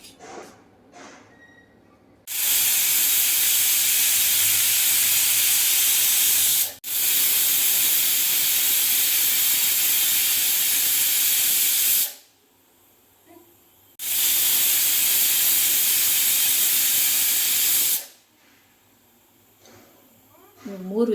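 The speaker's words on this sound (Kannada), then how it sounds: "ಇವಾಗ ಇನ್ನೊಂದು ವಿಸಿಲ್ ಬರ್ತಾ ಇದೆ" A pressure cooker cooking vegetable pulao lets off steam in long, loud, forceful hissing blasts, two extended bursts separated by brief quiet gaps, with a short pause inside the first, very close by and drowning everything else.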